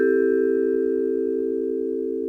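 A vibraphone note rings out with the rotating motor switched off, giving a pure, steady metallic tone that sustains evenly without wavering and sounds close and alone.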